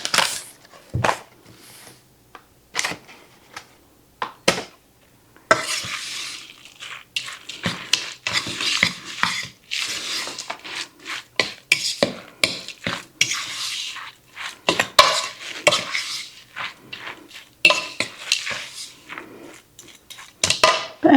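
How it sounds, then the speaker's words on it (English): A spoon scrapes and clinks through salmon patty mixture in a bowl, giving irregular close-up clacks and soft wet scrapes with short pauses between bursts. "we're going to mix it up and see how well it does"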